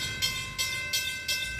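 Long freight train rolling into a rail yard, a steady low rumble with four regular rhythmic clanks as cars pass over the rail joints.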